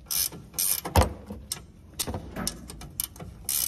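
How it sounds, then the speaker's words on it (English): A hand wrench works a 13 mm bolt out of a Polaris RZR Pro frame. Close, uneven ratcheting clicks and metallic ticks come in short bursts, with one sharper clank near the start. "we're going to take this 13 millimeter bolt out"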